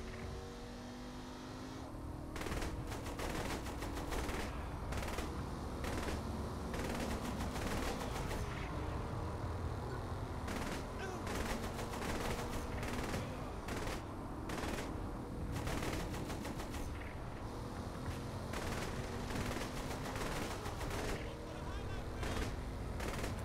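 Rapid bursts of automatic gunfire in the Saints Row: The Third Remastered game, repeated volleys of shots over a continuous car engine and street noise, with faint talk in the mix.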